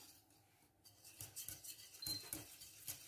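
Dehydrated mashed potato stirred into water just brought to the boil in a pot, a utensil scraping and clinking against the pot in soft, irregular strokes close by.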